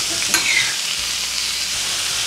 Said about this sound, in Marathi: आता आपण हा कांदा एकसारखा हलवत राहायचा.